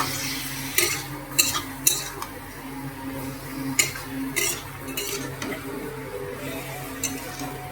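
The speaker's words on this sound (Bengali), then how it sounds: "এখানে মাংসটা বসায় দিচ্ছি" Desi chicken and a generous amount of potatoes cooking in a pot, with repeated bright scrapes and clinks of a utensil stirring against the metal over a low steady bubbling hum, no talking.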